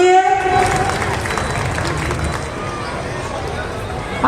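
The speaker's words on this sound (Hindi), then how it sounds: "जोरदार तालियां हो जाए बच्चों के लिए।" Applause for children at a school annual day and prize night, a big crowd clapping steadily and loudly in a hall, with a murmur of voices throughout.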